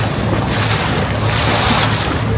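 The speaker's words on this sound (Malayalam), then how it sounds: "ആ ഒരു സൈഡ് ചേർന്നാണ് ഇപ്പം ബോട്ട് പോയിക്കൊണ്ടിരിക്കുന്നത്" A boat cruising close along the bank of Dubai Creek at Al Seef, giving a steady rumble of engine and water wash with wind buffeting the microphone, continuous and fairly loud with no talk.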